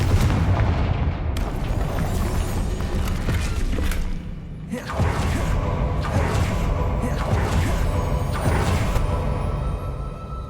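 Confringo fire spell blasts go off in Hogwarts Legacy, several loud booming bursts spaced a few seconds apart over a constant rumbling backdrop.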